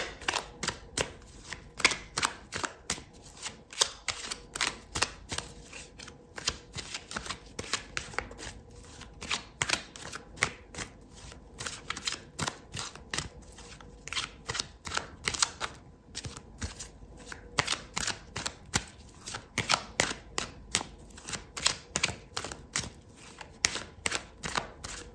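Tarot cards riffle-shuffled and drawn during a reading, producing a steady stream of crisp, close papery flicks and snaps in quick irregular bursts, with no talking.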